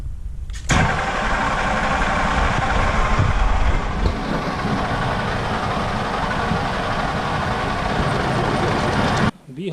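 A combine harvester's engine runs up to about 2000 rpm, a loud, steady diesel roar that kicks in abruptly and holds nearly unchanged before cutting off at the end.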